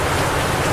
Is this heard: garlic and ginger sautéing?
no